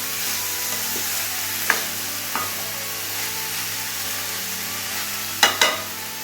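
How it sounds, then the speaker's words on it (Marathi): Ridge gourd pieces fry in a pan over a low flame, a constant soft sizzle broken by a few sharp clicks and scrapes of a stirring spoon, the two loudest near the end. "त्याला थोडे चांगले फ्राय होऊ द्यावे"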